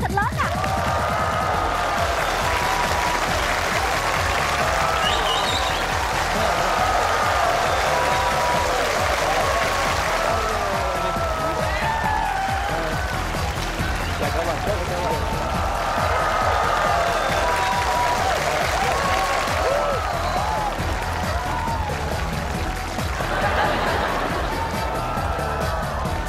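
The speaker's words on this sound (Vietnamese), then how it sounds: "Xin quý vị một tràng vỗ tay thật lớn ạ." Sustained audience applause fills a Vietnamese comedy stage show, a loud, dense wash of clapping that swells and holds without pause, with some cheering mixed in from the crowd.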